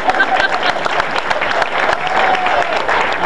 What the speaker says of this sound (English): How about a round of applause for my band?